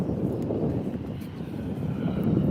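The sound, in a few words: EasyJet Airbus A320 aircraft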